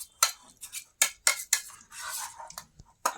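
A utensil clinks and scrapes against a bowl while spinach is served onto a plate, with several sharp, close taps and a short soft shuffle in between, against an otherwise quiet room.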